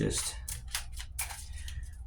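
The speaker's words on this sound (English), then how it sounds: "Let's go a few more shuffles and then we'll cut it." Tarot cards being shuffled in bursts of papery riffling, several quick flurries close by with a steady low hum beneath.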